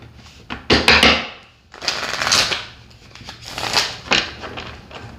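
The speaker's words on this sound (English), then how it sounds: "One more shuffle here." Tarot cards are shuffled close up in several quick bursts, crisp riffling and slapping of the deck separated by short pauses.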